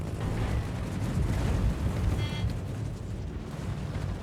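A ship being destroyed in the naval battle game World of Warships, a deep rumbling explosion with a sustained low roar and crackle, fairly loud and continuous without speech.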